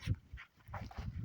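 A small dog on a front porch gives soft whimpers and panting in a few short bursts, close by and fairly quiet.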